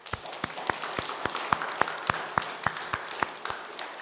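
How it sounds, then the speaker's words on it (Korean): A church congregation claps in a steady, evenly spaced rhythm of sharp individual claps over a soft background of scattered applause, moderately loud and continuous. "우리 한번 큰 격려의 박수를 부탁드립니다"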